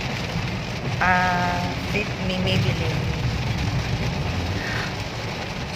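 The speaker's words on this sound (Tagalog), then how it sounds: "Sobrang lakas ang ulan." Heavy rain hisses steadily in a dense, constant wash, loud and unbroken, while someone talks briefly over it.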